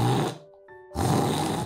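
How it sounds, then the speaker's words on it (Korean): Heavy snoring from a person, two loud, rough, rattling breaths separated by a brief quiet gap, close and prominent. "코를 심하게 고는 사람"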